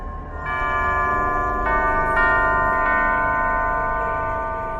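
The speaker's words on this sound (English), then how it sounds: "Only by playing the correct sequence of bells can it be opened." Bells in the Alice: Madness Returns video game ring out one after another in a sequence of clear, sustained tones that overlap as each new strike joins the lingering ring of the last, with no talking.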